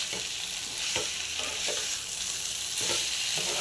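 Soybean chunks stir-fried with spices in a pan give a steady, close sizzle throughout, broken by a few scraping strokes of a spatula and with no talking.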